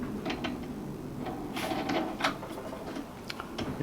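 Thin metal cutting disc being fitted onto a DeWalt DCG405F angle grinder, producing small close-up clicks, taps and light metallic handling noises at an irregular rhythm.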